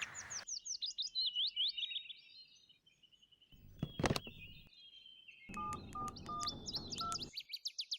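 Short electronic keypad tones of a telephone being dialed sound in a quick sequence of beeps near the end, while birds chirp and tweet brightly throughout, with a brief loud rustle in the middle.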